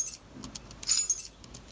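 A bunch of keys jingles up close in a couple of short, bright shakes, with no talking.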